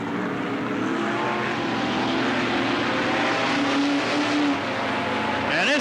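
Stock cars race at Riverside Speedway (Cottage Grove Speedway) in 1991, engines droning steadily and loud as the pack circles, one car's pitch rising near the end.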